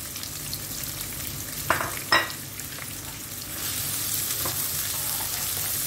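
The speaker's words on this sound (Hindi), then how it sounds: "ऑयल डालने के बाद हम बीच में ऐड कर देंगे हमारे अनियन, ये स्लाइस्ड अनियन है" Sliced onions fry in hot oil in a pan while being stirred into a dish of leftover fries, giving a steady close sizzle, a couple of sharp clatters early on, and a hiss that grows louder near the end.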